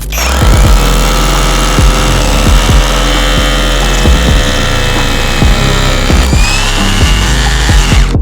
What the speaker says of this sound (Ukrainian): Акумуляторний перфоратор впорався швидше, помітно швидше.